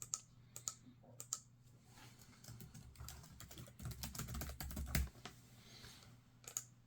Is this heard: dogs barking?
no